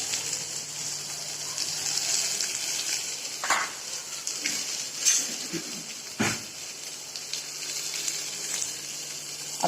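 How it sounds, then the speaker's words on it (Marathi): Steady hissing sizzle of onions frying golden in a pan, with occasional soft stirring scrapes and clinks. "कांदा चांगला भाजून घेते गोल्डन कलरवर भाजायचा"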